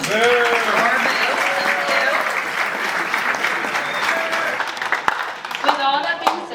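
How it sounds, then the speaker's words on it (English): Audience applause for the judges at the Mr. Orrville competition, a steady dense wash of clapping from a crowd lasting throughout, with whistles and cheering voices mixed in. "Everyone give them a big round of applause."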